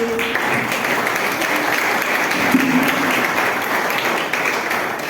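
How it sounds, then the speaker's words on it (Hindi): Loud, steady applause from an audience at a sales meeting welcoming a guest, dense clapping filling the room without a break from start to finish. "तो मैं चाहूंगा सर इनके स्वागत में एक जोरदार ताली होना चाहिए।"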